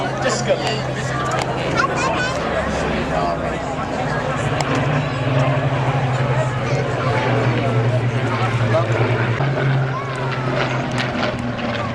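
A Supermarine Spitfire with its elliptical wing flies at the 2017 Wales National Airshow, the steady piston-engine drone holding throughout under crowd chatter and commentary.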